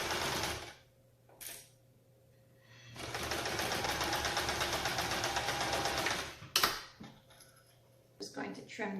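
A Brother 1034D serger stitches a 1/4 inch seam on fabric, its fast even mechanical whir running steadily for several seconds between brief bursts, with quieter handling noises and fabric rustle before and after.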